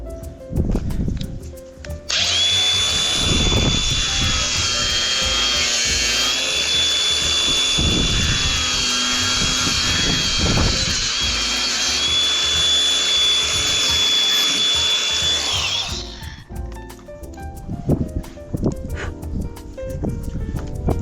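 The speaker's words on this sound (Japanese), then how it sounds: "じゃあちょっと塩ビ管切ってきますよ。" A power tool cuts PVC pipe during floor and wall work on a farm water-tank shed, running loud and continuously for about fourteen seconds with a high whine, with quieter handling noises before and after.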